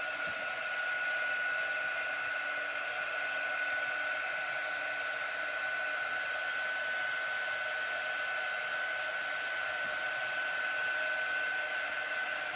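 Handheld dryer blowing steadily to dry a wet craft coating on a bucket: a constant high-pitched whirring hum, close and moderately loud, with no breaks and no voices.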